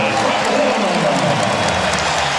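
A basketball arena crowd roars and cheers after a Louisville slam dunk against Virginia Tech, a dense, loud wash of voices and applause that stays steady throughout.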